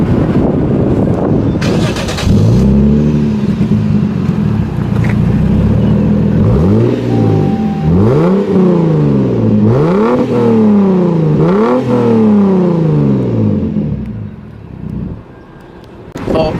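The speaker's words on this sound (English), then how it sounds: "I'm gonna turn on the car right now, and so you guys can hear how it sounds with the Flowmaster Resonator." Lexus IS250 engine fitted with a Flowmaster resonator starting up and revving, a close, loud idle broken by several rising-and-falling throttle blips before settling back down.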